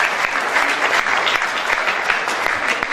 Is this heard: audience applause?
yes